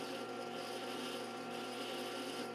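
A metal file rasps steadily against the tip of a bolt spinning in a drill press, a continuous even grinding hiss over the hum of the machine.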